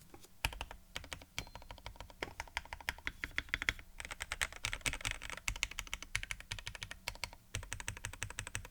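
Steady typing on a FreeBird60 mechanical keyboard modded with poly-fill stuffing, a continuous stream of close, muted key clacks with short pauses and a faint background hum.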